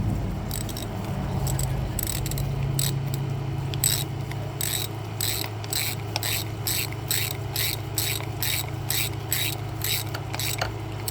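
A ratchet tightens the pedal crank on an e-bike during a repair, giving a steady run of sharp clicks in an even rhythm, close and clear over a low background hum, with no talk.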